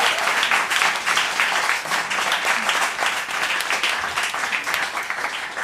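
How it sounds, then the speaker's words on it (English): Audience at a live psychedelic folk and chamber pop show at Cobalt Studios applauds an opening act, with dense, steady clapping that runs for several seconds at full strength. "can we just give a round of applause for her beautiful opening set?"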